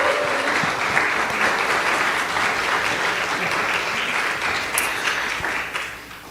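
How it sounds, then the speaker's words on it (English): An audience at a winter music recital claps for the music instructor, giving steady, dense applause throughout that tapers slightly near the end. "would you please give a great thank you clap to your speak music instructor"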